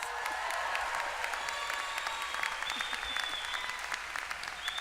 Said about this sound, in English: that's always the one that gets the biggest applause